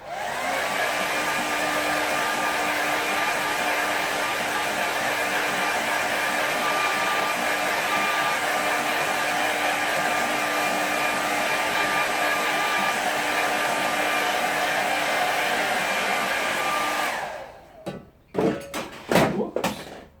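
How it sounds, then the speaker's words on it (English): A hair dryer blows on a watercolour painting in a continuous loud, steady roar, then switches off and winds down, followed by a few knocks and handling thumps nearby. "I'm just going to give that a quick dry first."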